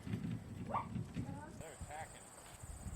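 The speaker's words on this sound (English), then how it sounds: "Here's my horse Jackson." A horse moves about a harvested garden patch where it was put to graze on weeds and now eats hay. Soft hoof clops and shuffling sit over a low rumble, with faint chirps in the background.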